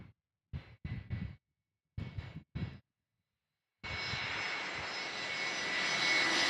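A Delta Airlines Airbus A321 jet at San Diego airport. After a few short noise bursts and silence, a loud, broad engine roar starts abruptly and swells steadily to the end.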